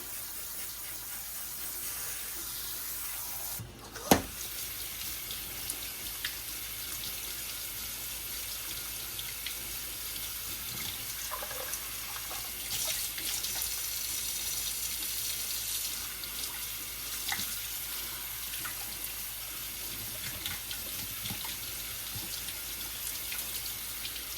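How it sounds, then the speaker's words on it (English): Hot tap water sprays steadily over fresh elderberries in a sink, a continuous close hiss with a sharp knock early on and slight shifts in the flow. "when you start spraying these off with the hot water, all of that bloom comes right off of there."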